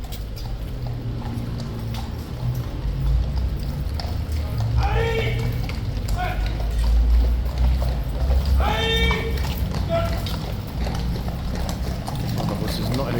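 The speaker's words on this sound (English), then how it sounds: "the horse is not in a good mood. This one's kicking off a little teeny-weeny bit." A King's Guard horse's hooves clip-clop on a hard surface amid a tourist crowd, with voices, guard commands and scattered mechanical sounds around them.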